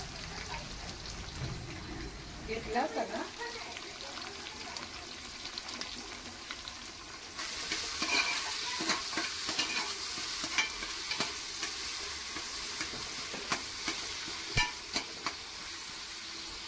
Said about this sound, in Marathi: आता यात कांदा उभा चिरून घ्यायचा आहे आणि तो तेलात लाल होईपर्यंत